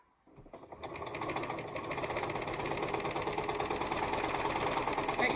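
A sewing machine stitches a barn quilt in a fast, steady, mechanical whir that starts up and settles into an even rhythm, close and fairly quiet, with no talk over it.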